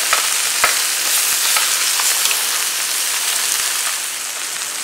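Carrots, onions and garlic with bay leaf, clove and juniper sweat in a pan, giving a dense, even crackling sizzle with a few sharp pops, close and steady, with no voices.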